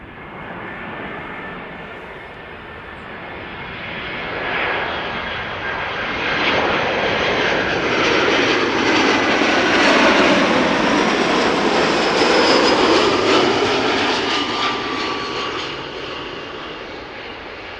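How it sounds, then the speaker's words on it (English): An easyJet Airbus A319, about 17 years old, arrives at Amsterdam Schiphol, a loud, steady jet roar that swells to a peak midway and slowly fades as the aircraft passes close by. "EasyJet A319 arriving from Gatwick, 195 nautical miles on the way, 17-year-old airplane"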